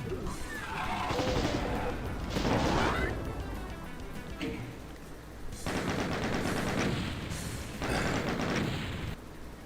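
Rapid bursts of gunfire from weapons in the video game Doom 64, several loud rattling volleys separated by brief lulls, with a voice talking faintly underneath.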